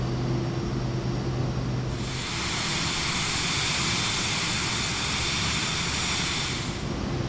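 Twin-sounding jet roar of a Cirrus Vision Jet on a high-performance takeoff in a flight simulator, a steady loud broadband rush that swells after the first two seconds and holds without talk.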